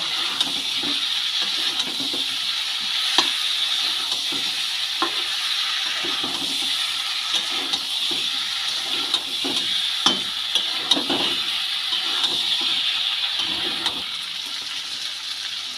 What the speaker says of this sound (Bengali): আলুটা দিয়েও ভালো করে এঁচড়ের সাথে কষিয়ে নেব